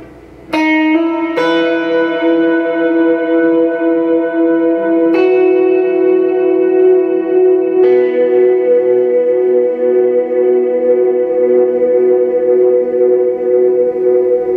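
Sustained electric guitar notes ring out and repeat in a long, airy delay trail, with new chords entering every few seconds and washing over each other.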